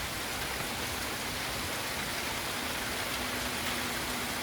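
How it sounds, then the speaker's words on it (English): Heavy rainstorm with big raindrops pouring down, a dense, loud, unbroken hiss of rain hitting surfaces, steady for the whole stretch with no talking. "Gosh, the raindrops are so big"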